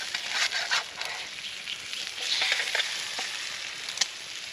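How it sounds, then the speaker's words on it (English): Jalapeños and cheese sizzle steadily in a hot skillet at an outdoor bushcraft camp, a close, continuous frying hiss with small crackling pops and no talking. "Just gonna let that set on the skillet to heat a little bit."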